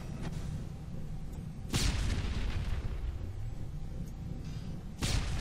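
Grenade explosion in the shooter game Dead Effect: booming blasts over a low, rumbling combat backdrop, with one loud burst early and another near the end.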